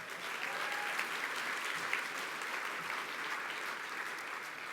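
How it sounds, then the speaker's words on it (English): Sustained audience applause at the 30th anniversary ceremony of the Academy for Women of Achievement, a steady, dense clapping from a large crowd filling the room with no talk over it. "That line right there deserves a big round of applause."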